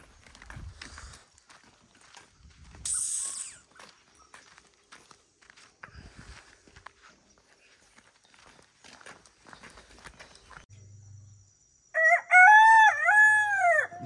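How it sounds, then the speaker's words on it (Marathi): A village rooster crows loudly in the early morning, a clear multi-part cock-a-doodle-doo near the end, preceded by scattered footsteps and faint rustling outdoors. "भाई कोंबडा पण आरवलेला आहे सकाळ सकाळी"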